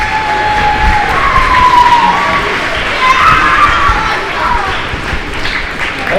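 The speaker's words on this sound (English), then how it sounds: "So, if we can give a round of applause, this is Michael." An audience at a motivational speech cheers and whoops loudly, with rising shouts and cries layered over a broad wash of crowd noise that swells and fades.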